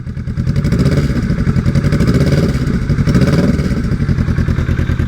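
A Kawasaki Vulcan S with a Musarri exhaust, close by and loud, revved gently from idle, the engine note swelling and falling back in a couple of short blips over a throbbing rhythm.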